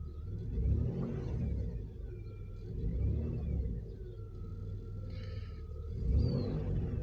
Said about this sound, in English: Let me see if I rev the car up